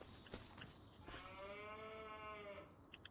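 Beef cattle in a farming video game on the Kinlaig map give one long, drawn-out moo lasting over a second, close and clear above a steady ambient background, with no talking.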